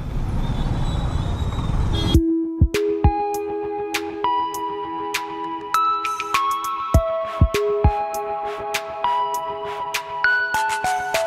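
Repeated car and scooter horns honk in dense Delhi traffic, many short toots and some longer blasts overlapping at varying distances, some close and loud, after a burst of rushing road noise.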